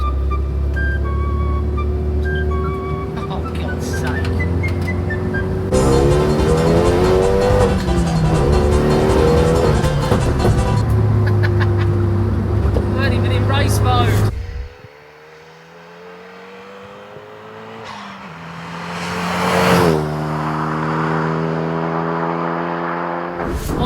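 A forged Renault Megane RS race car drives hard on track, its engine roaring loudly through repeated rising revs and gear changes, with tire squeal and a brief lull before the engine climbs again.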